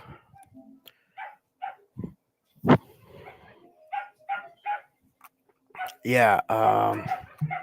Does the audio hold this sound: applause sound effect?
no